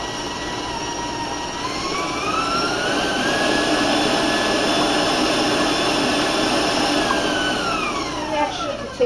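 An electric mixer beats biscotti dough with beaten egg, whining steadily and loudly close by, its pitch rising a little as the speed increases, and it runs without pause before cutting out at the end.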